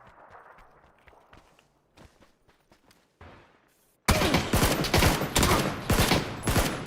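Gunfire in a PUBG match: soft scattered footsteps and faint distant shots first, then a sudden loud close burst of rapid automatic fire that runs to the end.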